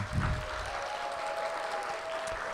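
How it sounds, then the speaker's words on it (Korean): Church congregation clapping for the young people at a youth devotion service, a steady, moderately faint patter of many hands with no break. "자 청년들을 위해서 박수 한번 치십시오 진짜"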